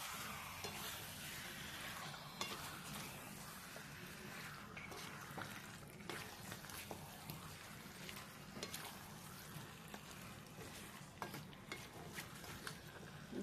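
Marinated chicken fries in a pan with tomato paste, a steady soft sizzle with irregular stirring scrapes and clacks of a utensil, heard close and alone.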